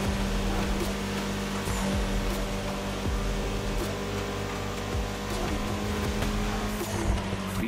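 A Mini Cooper races in The Crew Motorfest across Oahu, its engine humming steadily at a loud, constant level with brief tire squeals and other cars sweeping past along the way.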